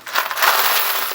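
Spent PMC .223 brass cartridge cases pour into a jug as a quick, bright metallic jingle and clatter, close and fairly loud for about a second, with no voices.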